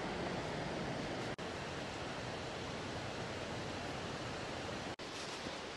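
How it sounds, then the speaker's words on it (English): A big waterfall in Oregon in winter gives off a constant, dense roar of falling water that stays steady and loud throughout, broken only by two brief dropouts. "but ooh, this is a big waterfall."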